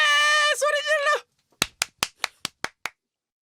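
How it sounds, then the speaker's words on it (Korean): Several sharp hand claps in a quick even series on a Korean TV news talk show set, heard alone right after a stretch of talk, more like a few people clapping than a full audience. "박수."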